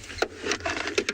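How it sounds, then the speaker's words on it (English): Close rummaging and clattering inside a safari vehicle as a spotlight is pulled out: hard objects knocked and shifted in quick irregular bumps and scrapes, with no talking. "Excuse the noise, I'm just getting a spotlight out."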